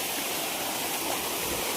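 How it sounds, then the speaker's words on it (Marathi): A waterfall in the Konkan countryside gives a steady, dense rushing roar of falling water, close and unbroken for a brief moment. "बघा धबधबा बघा."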